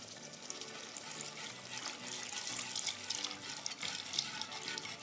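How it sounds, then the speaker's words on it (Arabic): Milk thinned with water is poured gradually into a béchamel roux and stirred in, giving a close, continuous wet trickling and bubbling. "واحدة واحدة باللبن اللي أنا مكسه بالمية وأقلب."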